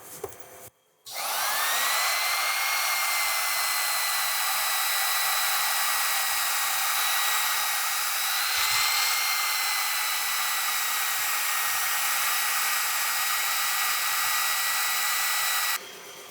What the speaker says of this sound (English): So I'm going to start out with a 600 grit abrasive belt.